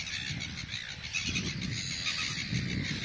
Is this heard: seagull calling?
yes